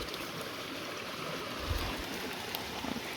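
Steady rushing water from a waterfall and flowing stream fills the air with a broad, even hiss, plus a few low splashing thuds up close.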